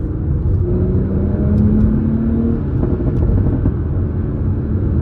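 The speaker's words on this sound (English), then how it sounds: "taking a quick drive here. I'm in sport mode, to sport suspension" Toyota GR Supra driving in sport mode with sport suspension, a steady loud engine rumble and road roar throughout, with a brief tonal rise midway like light acceleration.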